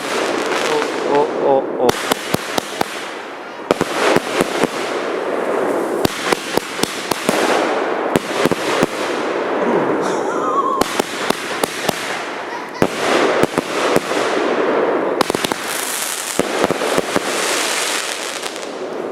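A Coco Twist 12-shot fireworks cake fires outdoors in a rapid series of sharp cracking bursts, each followed by crackling and fizzing, loud and close, with a brief exclamation from a person partway through.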